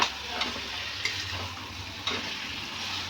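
Chicken kosha being stirred and sautéed in a pan, continuous frying sizzle with a few sharp spatula scrapes and knocks against the pan, close and unaccompanied by talk.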